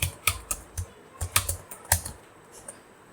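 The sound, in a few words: typing a password on a computer keyboard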